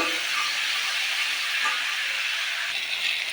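Chopped tomatoes dropped into a hot pan give off a steady, loud hissing sizzle with a steamy texture, continuous and close throughout, with no talking over it.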